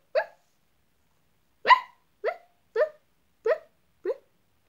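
A series of six short, high yaps from a puppy, the first two spaced apart, the rest in quick succession, fairly close.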